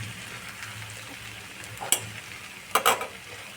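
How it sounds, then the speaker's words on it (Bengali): A spatula stirs spice mix into cauliflower, potato and peanuts in a pan over a low flame, with a soft, continuous sizzle and a few sharp scrapes and clinks against the metal. "এবার আস্তে আস্তে এটা আমি এই মশলাটা মিশিয়ে দেবো।"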